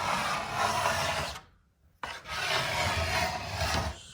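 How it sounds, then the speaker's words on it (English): A scraper drags across a waxed snowboard, taking off the top wax layer in two steady rasping strokes with a short quiet break between them. "start here from the end and just start scraping off that top layer"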